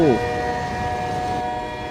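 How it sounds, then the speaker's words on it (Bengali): A train arriving at a station, a sustained horn-like tonal wail over a low rolling rumble, steady and moderately loud, with a brief voice at the very start. "বলতে বলতে ট্রেন এসে গেছে"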